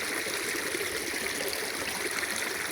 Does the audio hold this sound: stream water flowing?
yes